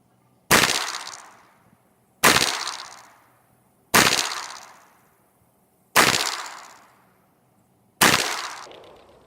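Five loud, sharp reports from a Smith & Wesson M&P pistol firing full metal jacket rounds at a range, evenly spaced about two seconds apart, each with a short decaying tail and no talk.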